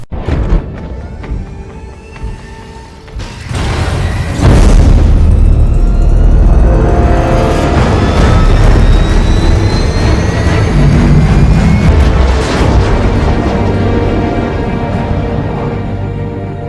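A bomb goes off in a 1960s Batman movie: a loud, sustained explosive roar with deep rumbling that swells after a quieter opening and holds heavy for many seconds before slowly easing.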